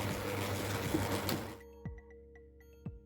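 An electric mixer beats cheese with butter and egg in a steady, buzzing whir for about a second and a half, then shuts off, leaving only a couple of faint clinks.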